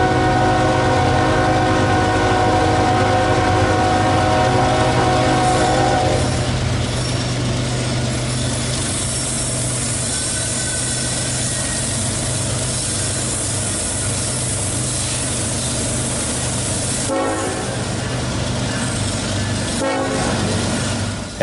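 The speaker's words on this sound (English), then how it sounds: "Headed out of Kimber Yard, the engineer throttles up the locomotive to notch 8" An HO-scale model railroad locomotive on the BNSF Fall River Division climbs out of Kimber Yard at notch 8, its steady engine drone under a long, loud horn at first, with a couple of brief sharp bursts later on.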